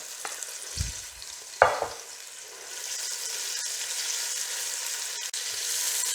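Sliced onions drop into hot oil in a pan for bhuna gosht. Two sharp splashes are followed by a steady sizzle and a few stirring scrapes, fairly close, with no talking.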